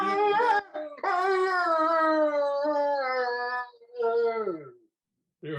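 A dog at home gives long, drawn-out howls with a wavering tone, a short yelp first and then two sustained howling phrases that slide downward and fade, close and clear.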